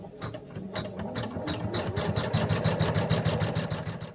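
Embroidery machine stitching two layers of fabric held in a small hoop for washcloth cat ears, a steady rapid mechanical whirring with fast rhythmic needle clatter throughout, close and continuous.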